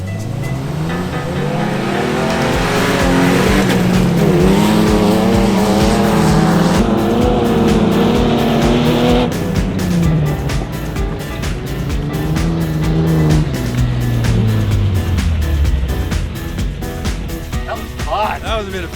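Ford XE Falcon engine sound as a car races and spins its wheels in the mud, with loud, rising and falling revs and wheel spin throughout, overlaid with people talking.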